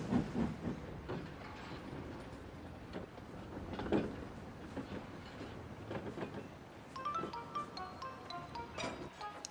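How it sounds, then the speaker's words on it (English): Railway goods trucks clank and rumble as a locomotive shunts a long train into sidings, with clattering couplings, a squeal of wheels toward the end, and no talking. "He buffered up to the long train and shunted it to the sidings."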